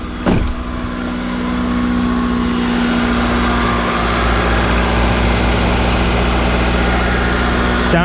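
Car engine cranking and catching after new spark plugs and a new PCV valve, then settling into a steady idle hum that runs on evenly and fairly close.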